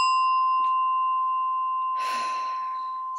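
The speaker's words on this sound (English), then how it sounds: "The singing bowl to help set the space" A singing bowl rings out with a clear, sustained tone and bright overtones that slowly fade, with a faint breath or rustle partway through and no talk.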